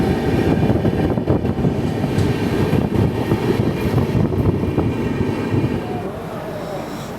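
Kolkata to Guwahati Garib Rath Express train at Katwa Junction, a loud continuous rumbling roar of rolling wheels and carriages heard from on board, easing slightly toward the end.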